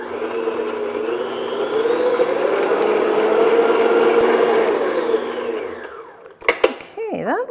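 An electric mixer whirs steadily while beating white cupcake frosting with added milk or cream, loud and close, swelling slightly before winding down, followed by a few clanks and a brief voice.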